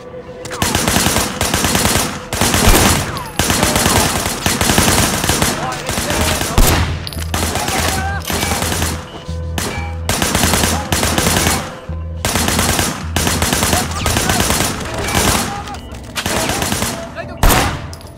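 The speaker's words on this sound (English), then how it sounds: "Shooting at the guys over there." Gunshots in the video game Sleeping Dogs: loud, sustained bursts of rapid automatic gunfire, repeated in long volleys with short breaks between them.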